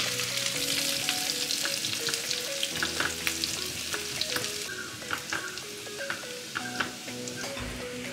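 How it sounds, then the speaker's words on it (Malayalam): Sliced shallots and popping mustard seeds fry in hot oil for a dry fish curry, a steady close sizzle with crackling pops and occasional stirring clinks throughout. "കടുക് പൊട്ടുമ്പോൾ ഒരു 3 ചെറിയ ഉള്ളി ഞാൻ ചെറുതായിട്ട് സ്ലൈസ് ചെയ്ത് വെച്ചിട്ടുണ്ട്, ഇട്ട് കൊടുക്കുക"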